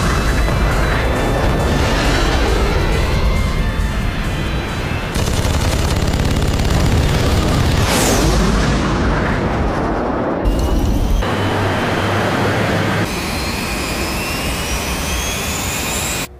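Jet engines roar loudly throughout an anime air-combat scene, with bursts of anti-aircraft gunfire rattling over the din and MiG fighters climbing to altitude, a continuous dense wall of engine and gun noise with abrupt cuts.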